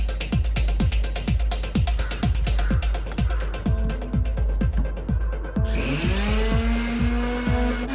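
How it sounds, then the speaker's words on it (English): A power sander works the last subfloor board of a RAM ProMaster 1500 136-inch-wheelbase van conversion, a loud, continuous motor whine whose pitch sweeps up and down in steady repeating strokes. "And I just sanded the very last board of the floor"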